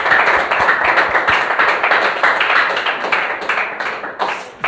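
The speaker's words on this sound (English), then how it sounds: "Give her a big round of applause." A small group claps steadily for several seconds after a Grade 10 classroom presentation, a lively patter of hands that slowly thins out toward the end, with no talking.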